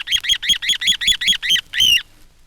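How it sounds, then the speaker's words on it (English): A hen little ringed plover calls from its nest: a rapid run of about eight bright, repeated piping notes, then one longer, harsher drawn-out note, close and alone with no background noise. "On the nest, the hen little ring plover has a very characteristic note."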